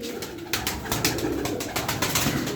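Turkish performing pigeons coo in low repeated murmurs over a steady background hum, with a few brighter chirps scattered through.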